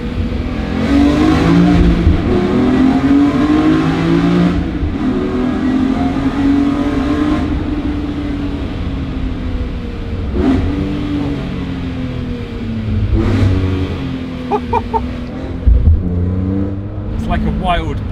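A BMW E46 M3 CSL engine revs hard inside a tunnel, a loud, echoing snarl that rises and falls through several gear changes, with crackles and pops on the overrun, while people talk over it.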